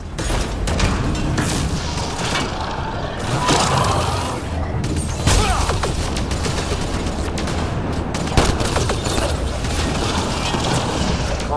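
Sustained gunfire in the Mass Effect Andromeda video game during a firefight, with dense rapid shots, booms and mechanical noise filling the whole stretch at steady loud intensity.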